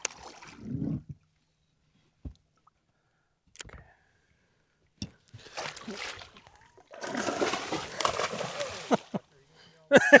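A musky striking and jumping at a topwater lure on Eagle Lake throws up water in a burst of splashing near the end, after scattered quieter splashes and drips, with voices talking in between.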